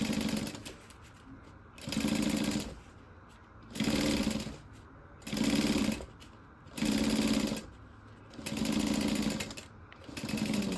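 Home sewing machine stitching a circle handbag in six steady bursts of about a second each, separated by short pauses, close and clear with a light whirring hum between runs.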